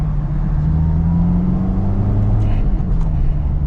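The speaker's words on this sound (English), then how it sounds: "I'm gonna go into 2nd and try to perfectly match it." A manual-transmission car engine revs steadily on takeoff, its hum climbing and then shifting pitch as it goes into second gear, heard close and continuous from inside the car.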